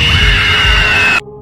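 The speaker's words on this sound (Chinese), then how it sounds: "发出恐怖的尖叫声" A strange creature lets out a loud, shrill, sustained scream from behind a tree beside a man, holding steady before cutting off abruptly into near silence.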